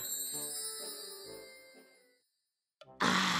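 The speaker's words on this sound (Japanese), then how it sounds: "あやばいビデオ電話かかってきた" A video call ringtone sounds in a business hotel room: a bright chiming, tinkling melody for about two seconds, then silence, then a sudden loud noisy burst.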